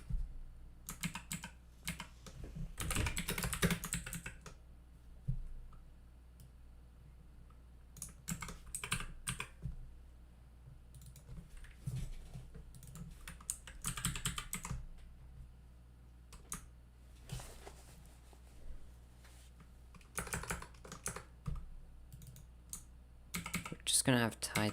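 Close bursts of rapid clicking come from typing on a computer keyboard, with pauses between runs and a low background hum, and a voice speaks in the gaps.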